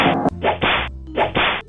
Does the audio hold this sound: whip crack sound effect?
yes